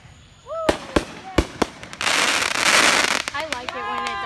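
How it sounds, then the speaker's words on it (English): Fireworks at a 2019 display boom and crack in a series of sharp, loud bangs, followed by a dense crackling spray and more pops, while people's voices sound faintly through the blasts. "Oh, he there's won't another cut that. firework."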